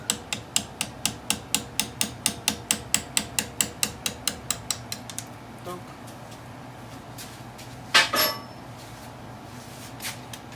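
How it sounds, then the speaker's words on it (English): A small hand punch taps a metal part on a shop-built lapidary saw in a quick, even series of about twenty light metallic strikes, then stops before a brief clatter. "So I use a little punch real cautiously. More to rattle it a little bit."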